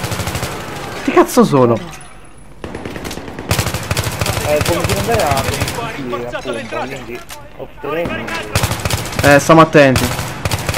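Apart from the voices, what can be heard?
gunfire in Battlefield 3 video game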